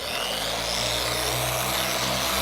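A polisher whirs steadily at speed 3 while spreading Griot's Garage Fine Glass Polish across a section of glass, a constant close motor hum with a broad whooshing hiss and no speech.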